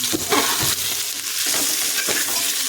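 Vegetables fry in ghee in a home kitchen pan, with a continuous bright sizzle and occasional scraping stir strokes, heard close and alone without talk.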